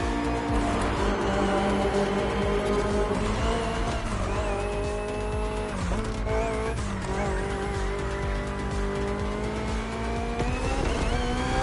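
The BMW M Hybrid V8 endurance race car, a 2023 Le Mans-style prototype in the game The Crew Motorfest, screams at high revs with rising and falling gear changes and tire squeal, loud and continuous throughout.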